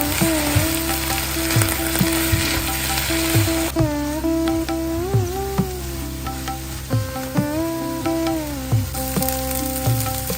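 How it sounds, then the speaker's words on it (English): Onions, tomatoes and capsicum cook in a hot pan with a loud, constant sizzle, while a spoon scrapes and stirs in repeated rhythmic strokes with squeaky metallic tones. No one speaks. "Now add tomatoes, capsicum and cook until soft, juicy and nicely mashed."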